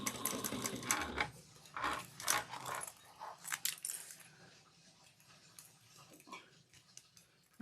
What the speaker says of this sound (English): Backstitch 1 or 2 stitches, whatever's easier for you.